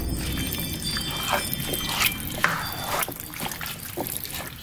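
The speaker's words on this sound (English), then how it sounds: "now let's just stir it all in" Chili being stirred in a crockpot, a close wet sloshing and scraping of thick liquid with soft irregular spoon strokes, steady and fairly loud.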